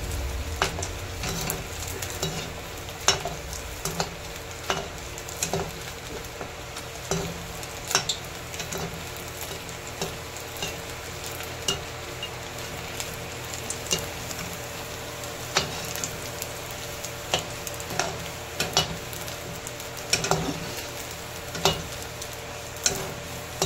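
Sabudana vada cutlets frying in hot oil, a continuous close sizzle with frequent small pops and crackles spread evenly throughout, no voices.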